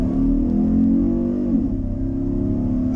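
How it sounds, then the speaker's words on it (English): Steady low V6 engine intake sound from a car fitted with a cold air intake, a continuous droning hum heard from inside the cabin while driving, with a slight swell midway. "you can definitely hear it more. Definitely more of a, not a growl, but a more visceral and aggressive sound on the intake."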